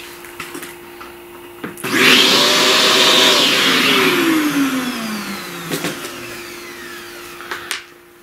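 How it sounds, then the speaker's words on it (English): A vacuum cleaner picks up pastel dust in a steady, close whine lasting about four seconds, its pitch falling as the motor winds down, with a few light taps before and after. "vacuum up that dust first."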